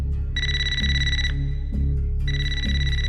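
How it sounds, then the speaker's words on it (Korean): A telephone rings with a bright electronic trill in two loud bursts separated by a short pause, over a steady low background hum. "전화 벨이 울렸습니다."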